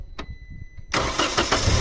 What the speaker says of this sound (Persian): ماشین روشن شد